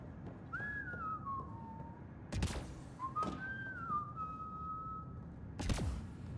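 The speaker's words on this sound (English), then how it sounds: "No whistling." A character whistles a short tune aboard a ship in Mass Effect Andromeda, two rising-then-falling whistled phrases heard clearly against a low ambient hum, split by sharp electronic bursts.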